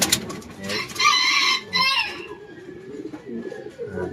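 Homing pigeons at a loft after returning from a race from Legazpi, with repeated cooing and soft bird calls, a rooster crowing nearby, and someone speaking quietly at intervals.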